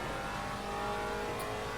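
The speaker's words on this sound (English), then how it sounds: "one last tip about the Maserati is turn up the volume, because it really does sound amazing" A Maserati MC GT4 race car in Assetto Corsa Competizione holds a loud, steady, high-revving engine note that drones without a break, close and alone with no voices.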